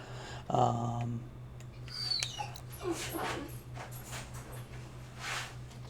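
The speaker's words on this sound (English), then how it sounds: "guess I'll let the dogs out." Dogs in the video game Horizon Forbidden West let out a high whimper followed by scattered yips and barks over a low steady game hum.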